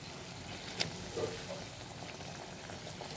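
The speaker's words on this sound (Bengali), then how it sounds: "গ্রেভিটা সুন্দরভাবে ফুটে উঠেছে, এবার এর মধ্যে আমি মাছগুলো ছেড়ে দিচ্ছি।" Fish curry gravy simmering in a pan gives a soft, even bubbling hiss with a few small pops, close but fairly quiet, with no talking.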